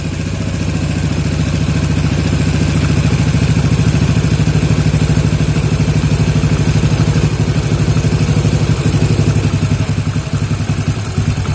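A Yamaha Jupiter MX motorcycle engine idles loudly and close during carburetor tuning, chugging in a steady, rough rhythm until it stalls.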